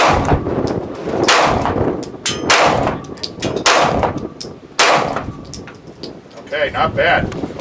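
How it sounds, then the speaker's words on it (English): Live handgun fire at a target on a range, several loud sharp shots spaced irregularly and close by, with people talking between them. "So now we're gonna do live fire."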